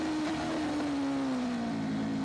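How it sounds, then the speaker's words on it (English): A racing motorcycle at the Macau Motorcycle Grand Prix, its engine note falling steadily as revs drop and it downshifts toward first gear, heard from a distance as a thin, sustained whine. "You'll hear that bike as we stay with it."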